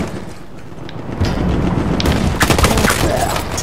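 Gunfire in the video game Battlefield 1, including burst-mode pistol shots, with a quieter start followed by loud, dense, close reports and rumbling booms.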